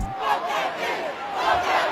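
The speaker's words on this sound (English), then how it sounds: "the entire crowd started yelling at the fan" A concert crowd yelling angrily at a fan, a dense roar of many voices sustained throughout, swelling near the start and again toward the end.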